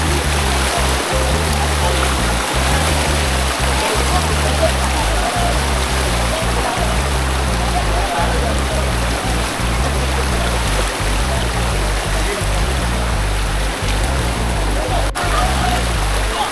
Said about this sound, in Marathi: तसा पाण्याचा फ्लो भरपूर आहे